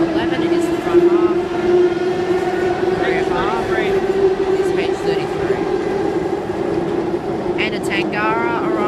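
A Sydney Tangara electric train pulls in at a station platform with a steady rolling rumble and whining motor hum, brakes squealing toward the end, while platform announcements play over it.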